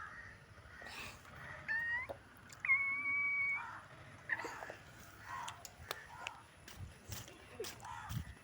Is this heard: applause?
no